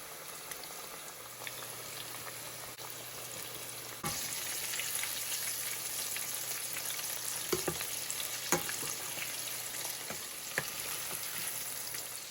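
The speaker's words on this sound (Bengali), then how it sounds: "এখানেও তেল গরম করে এখন এই যে একটা একটা বের করে ভাজবো" Coated chicken fingers frying in hot oil: a constant crackling sizzle that steps up in loudness as more pieces are added, with occasional sharper pops, close and alone.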